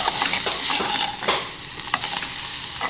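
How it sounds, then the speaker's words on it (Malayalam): Drumstick flowers fry in oil in a pan as turmeric and pepper powder are stirred in, giving a steady, close sizzle broken by soft scraping strokes of the spoon. "മഞ്ഞൾപ്പൊടിയും കുരുമുളക് പൊടിയും കൂടി ചേർത്ത് ഇളക്കാം"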